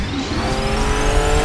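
A Ferrari Testarossa touring car drives past loudly at speed, a dense, steady roar of engine and road noise lasting only a moment, with no talk.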